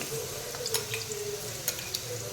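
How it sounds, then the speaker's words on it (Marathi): Ground garlic fries in hot oil for a homemade chilli pickle masala, giving a steady close sizzle with a few light stirring clicks throughout. "तेल गरम करत ठेवले आता त्यात आपण काय करूया वाटून घेतलेलं हे लसूण"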